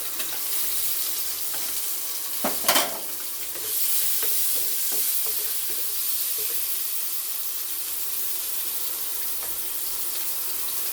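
Chopped onion and nigella seeds hit hot oil and fry in a Bengali kitchen, with a loud sustained sizzle, a sharp burst of spattering early on, and some stirring clinks.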